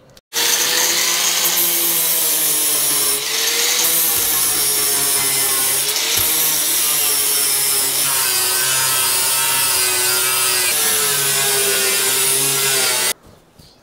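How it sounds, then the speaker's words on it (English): Rust spots on the floor of a Sprinter van being turned into a camper are scrubbed hard and continuously, a loud, close, abrasive rasping that runs without pause for about thirteen seconds before stopping abruptly. "having a good scrub of the floor there"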